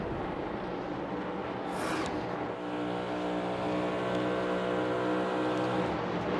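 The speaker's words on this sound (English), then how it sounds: "you can really hear him pedaling that car" NASCAR Cup Series race car at Kansas Speedway, engine held at a steady high-pitched roar, dipping briefly as the driver modulates the throttle mid-corner, then climbing back to a strong sustained drone with harmonic whine.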